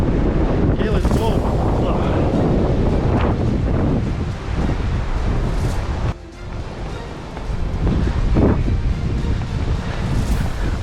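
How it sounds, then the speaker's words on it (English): Strong gusting wind from Hurricane Zeta roars into the microphone on a beach at Riviera Maya, Cancun, with surf underneath, loud and continuous with a brief lull midway. "It's super windy."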